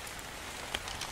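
Steady rain hisses down in Ark Survival Evolved on The Island map, a soft, even patter of drops on surfaces with a faint crackle, quiet and continuous with no voices.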